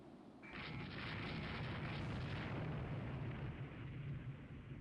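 Naval gunfire explosions in the Rule the Waves 3 game, a dense, sustained rumble of booming blasts heard faintly and continuously with no talk.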